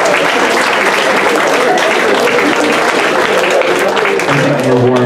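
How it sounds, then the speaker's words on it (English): A loud, dense round of applause from a high school audience at a comedy hypnosis show, sustained and close for about five seconds with a faint voice near the end. "Let's give them a round of applause, everybody."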